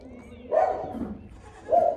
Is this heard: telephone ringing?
no